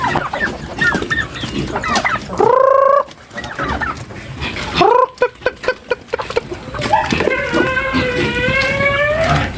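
A flock of backyard chickens clucking continuously up close at feeding time, with a few drawn-out squawks rising above the busy chatter.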